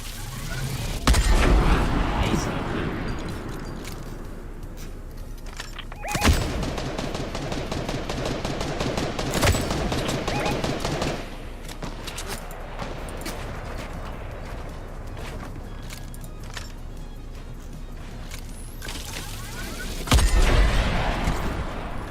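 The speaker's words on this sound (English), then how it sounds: "I call that a laser rifle or laser gun, I guess." Purple-beamed laser rifle or railgun fired in a competitive online shooter match, heard as sharp loud blasts at the start and near the end, with a long sustained crackling, buzzing roar between them.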